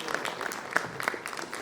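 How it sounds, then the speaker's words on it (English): Scattered, fairly faint applause from an audience at a corporate HR-EHS conference in Vadodara, greeting an environmental award winner: thin, uneven claps with no spoken voice. "Let's give a huge round of applause to our Paryavaran Ratna awardee."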